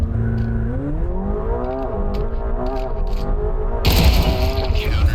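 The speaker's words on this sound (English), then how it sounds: "it's like a whole second before I hear the revs kick in when you're pulling away" A car engine revs up with rising, climbing tones, then a sudden louder roar and rush as it launches away.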